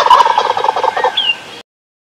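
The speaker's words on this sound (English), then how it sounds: "The turkey gobbles in the yard" Turkey gobbling in a yard, one loud, close, rapid warbling gobble lasting about a second and a half before cutting off to silence.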